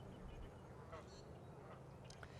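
Ducks quack at a duck pond on a sunny morning, a few faint, distant calls scattered over steady outdoor background noise.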